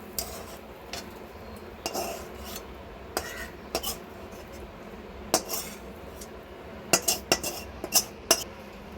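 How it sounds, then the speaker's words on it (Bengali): A metal spatula scrapes and levels kalakand sweet on a ghee-greased tray, giving soft scraping under a steady background and a series of sharp metallic clinks that cluster toward the end. "আমি এই খুন্তি দিয়েই এটা সমান করে দেবো"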